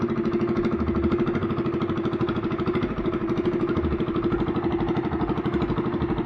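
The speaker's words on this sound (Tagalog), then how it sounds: "maingay ang makina." A noisy engine runs steadily at close range, a loud rough idling chug with a rapid regular pulse and no pauses.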